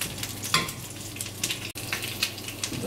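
Parsnip frying in a pan: a steady sizzle with soft scrapes and stirring taps, close and moderately loud, broken by one brief dropout partway through.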